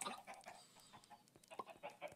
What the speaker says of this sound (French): Voilà, deux poussins, ils sont tout petits.